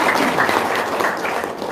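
Studio audience breaking into sustained applause, a thick continuous patter of many hands clapping at close range, with only faint voices underneath.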